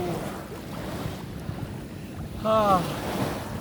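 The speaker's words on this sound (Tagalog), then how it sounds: "Lalaki ng alon." Large ocean waves roll onto a beach on Boracay island, a low rumbling surf blended with gusty wind buffeting the microphone, and a voice briefly speaks near the end.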